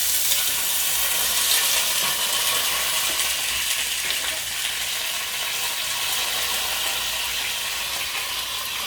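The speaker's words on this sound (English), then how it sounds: "I'm going to cook the onions in there." Onion sautés in a pot, giving a dense, even sizzle and crackle that stays steady and close for several seconds with no speech.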